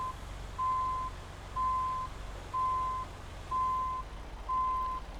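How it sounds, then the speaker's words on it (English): A truck's reversing alarm in the American Truck Simulator game gives five steady, evenly spaced beeps over a low engine rumble, with nobody talking. "you're going to get to listen to the backup beeping."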